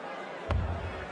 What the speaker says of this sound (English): Crowd loving it as ever.